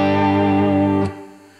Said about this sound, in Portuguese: Esse é o som clean, só com compressor e o Dream Rub simulando os amps.